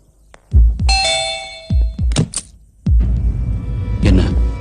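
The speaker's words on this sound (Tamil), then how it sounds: "என்ன துப்பாக்கி சத்தம்?" Loud sharp gunshot-like bangs from an action film playing on a television, several sharp impacts with ringing tails spread across the moment, heard indoors.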